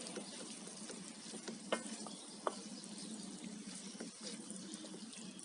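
Meat and tomatoes sizzle steadily in a sac pan while sac kavurma cooks, a faint, even crackle with a couple of sharper pops and no talking.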